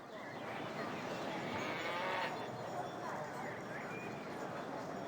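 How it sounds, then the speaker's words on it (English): A cow moos in the video game Baldur's Gate, a faint, drawn-out low call partly buried in a dense, steady hiss of background noise. "Can I talk to the cow?"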